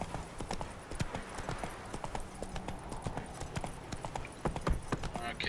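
Roach, the horse in The Witcher 3, gallops in a quick, rhythmic clip-clop of hooves that stays moderately loud throughout, with a brief faint whinny near the end.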